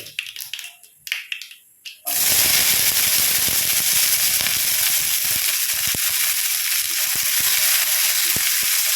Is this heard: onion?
yes